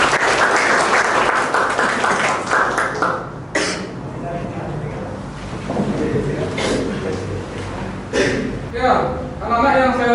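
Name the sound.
applause for the class leader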